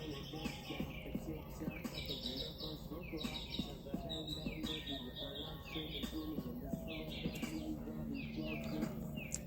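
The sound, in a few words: birds chirping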